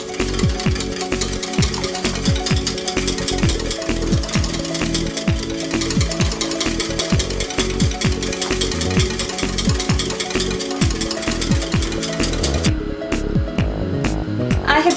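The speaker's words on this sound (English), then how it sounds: "I'm going to continue whisking it. Add milk little by little." Milk being whisked steadily into an egg custard base for vanilla ice cream, a fast, continuous scraping rhythm of whisk strokes that stays loud and close throughout, with no talking.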